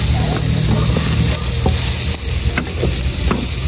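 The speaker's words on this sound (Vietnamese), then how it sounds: "Là đậu chín rồi mình cho cải vô luôn." Beans and bok choy sizzle steadily in a pot while a utensil stirs them, giving a constant frying hiss broken by scraping strokes and soft knocks against the pot, close and without talk.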